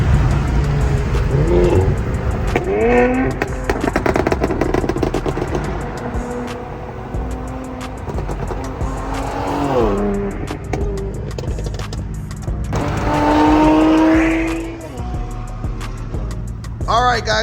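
While an Infiniti Q50/Q60 with stock lower downpipes is driven, its engine and exhaust rise and fall through several loud revving pulls, each climbing in pitch before easing off, with a steady road rumble underneath.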